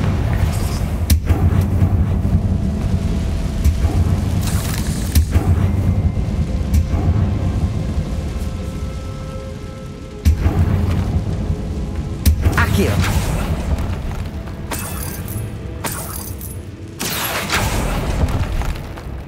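Fiery Confringo blast spell exploding in Hogwarts Legacy, a series of heavy booming bursts with sharp onsets recurring over a dense rumbling game soundscape, loud and close, with talk mixed in.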